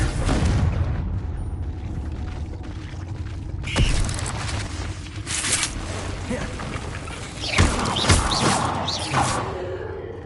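A Confringo blasting curse detonates in Hogwarts Legacy, a few sharp booming bursts around the middle and later part, set against steady game ambience and a dense mix of magical combat effects.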